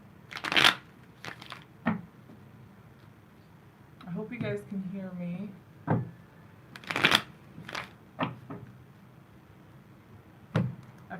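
Tarot cards are shuffled in several short riffling bursts, close and crisp, interleaved with someone talking.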